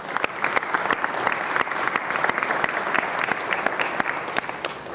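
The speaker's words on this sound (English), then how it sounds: "Let's give them a big round of applause." Sustained applause fills a city council meeting chamber, dense clapping from an audience holding steady for several seconds with occasional sharper individual claps standing out.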